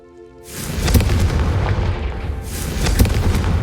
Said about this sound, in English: I think you'll find that a Confringo cast travels a bit farther